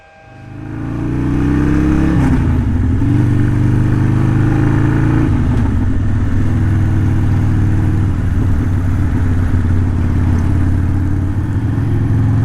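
A Harley-Davidson motorcycle engine with a Screamin' Eagle race tuner remap fires up close by and settles into a loud, throbbing idle, with a couple of brief revs early on.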